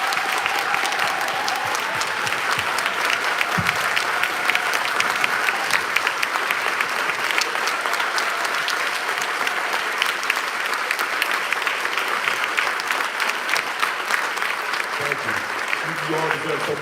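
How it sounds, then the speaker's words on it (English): Sustained applause from a symposium audience, dense and steady throughout, with a few voices faintly audible beneath the clapping near the end. "So I want all of us to give them a round of applause."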